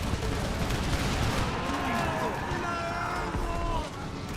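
Musket volleys in the battle game Empire Total War, with dense crackling gunfire and distant booms rolling together under a loud, constant battle din while someone talks over it.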